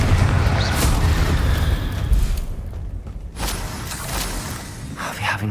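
Confringo blasting curse explosions in the Hogwarts Legacy video game: dense, loud booming blasts and crackling impacts rolling continuously, with a brief lull midway before the roar resumes.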